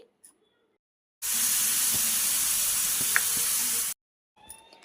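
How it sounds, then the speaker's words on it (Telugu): Steady, loud sizzling of food frying in hot oil, a continuous hiss lasting a few seconds that starts and stops abruptly. "నూనెలో అయితే వేసేసుకొని బాగా గోల్డెన్ కలర్ వచ్చేంత వరకు వేయించుకుంటున్నానండి"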